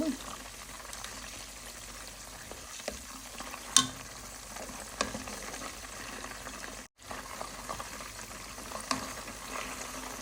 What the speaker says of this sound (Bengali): তো চিকেনগুলো এখন আমি উল্টিয়ে দিব